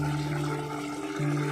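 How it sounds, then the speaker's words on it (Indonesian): Water from a spring-fed spout pours in a steady, continuous rush, close and even, with a constant tonal hum running underneath. "dan di sini adalah pancuran"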